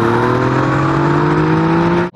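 A Yamaha MT09 motorcycle engine accelerates hard through the gears, a loud steady rising drone with a strong harmonic whine that climbs in pitch before cutting off abruptly near the end.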